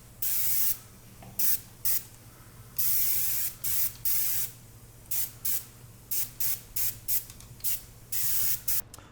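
Spray paint hisses from an aerosol can in repeated short bursts onto a foam Nuka Cola rocket pack prop, each spurt lasting about a second with brief gaps between, close and fairly loud with no talking.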